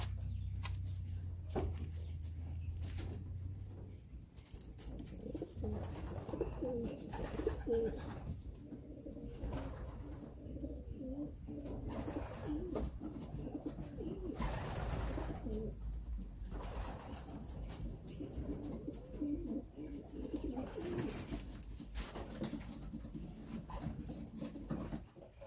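Pigeons in a loft coo softly and intermittently at close to middle distance, with low throaty calls over a quiet background and a dog occasionally heard.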